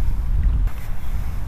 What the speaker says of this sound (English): Very, very windy ocean.